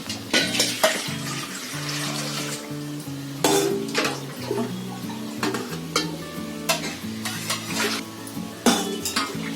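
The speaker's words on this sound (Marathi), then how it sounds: "आता मी थोडं पाणी घेते." Kitchen clatter while water is readied for a stall-style Manchurian soup: utensils clink and scrape against pots alongside a trickle of running water, close and steady with sharp metallic hits throughout.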